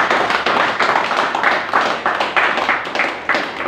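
A congregation at a church service held at a police station claps in a steady, rhythmic beat, each clap distinct and fairly close, the unison clapping carrying on evenly throughout.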